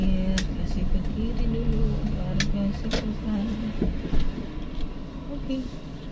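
A manual car rolls slowly into a parking spot, with a low steady engine rumble inside the cabin and occasional light clicks, while people talk over it.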